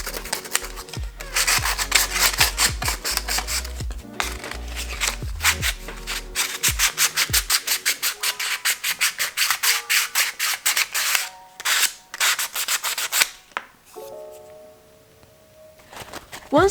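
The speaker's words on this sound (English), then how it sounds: "I used a fine grit sandpaper to remove the excess and I tried to smooth the surface as much as" Fine grit sandpaper rubbed over a 3D printed cosplay accessory, a close run of quick rhythmic scratching strokes that grows into steady regular rasps, with brief pauses and a few light taps near the end.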